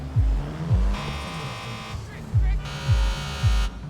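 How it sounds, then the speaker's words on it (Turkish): Low, rumbling idle of a convertible BMW's modified exhaust in GTA 5, with a steady buzzy drone, broken by a few deep thumps, and a voice talking over it. "Arabanın düşük devir sesi de güzel olmuş ha"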